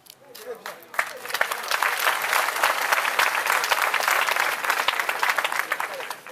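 Applause from an audience at a political gathering, starting with a few scattered claps and swelling into dense, steady clapping that continues to the end, with voices under it.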